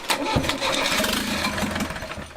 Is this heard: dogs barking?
no